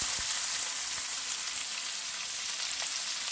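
Onion, green chillies, curry leaves and a dried chilli fry in a pan for mutton sukka, a steady close hiss of sizzling oil with a few faint clinks.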